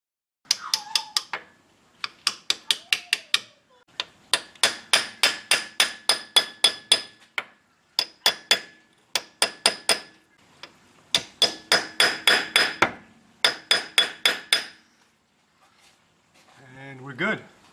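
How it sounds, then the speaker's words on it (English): Repeated hammer strikes drive a pinion seal into a rear axle housing, landing in quick bursts of close, sharp metallic taps separated by short pauses, ending with a brief squeak. "And now I'm going to go ahead and hammer that in."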